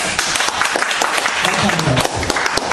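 An audience at a political rally breaks into sustained applause, a continuous wash of clapping that fills the whole short stretch, close and loud, with a voice sounding faintly underneath.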